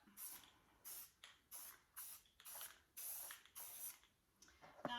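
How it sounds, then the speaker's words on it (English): Short hissing bursts of a black spray paint can coating a license plate, about eight sprays in a steady rhythm with brief pauses, close up, ending with a small clatter. "I have lots of black spray paint, so I'm just going to give it a quick coat here"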